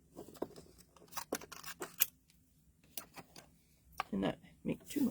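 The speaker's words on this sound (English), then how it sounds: "I'm going to use scissors to cut this out so that I can feed it through." Scissors cutting a paper piece out of gray granite-patterned paper, making a run of crisp, close snips and rustles in uneven bursts, with brief pauses between them.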